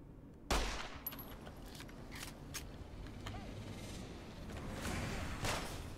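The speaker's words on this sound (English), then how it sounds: "they're shooting at me anyway" Gunfire in Fallout: New Vegas: a sudden loud crack followed by a dense, continuous barrage of shots and rattling reports that keeps going to the end.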